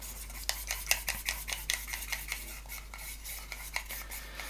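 Paint being stirred with a brush as Citadel Air paint is mixed with water: a quick run of small scraping, clicking strokes, close and fairly quiet, with no voices.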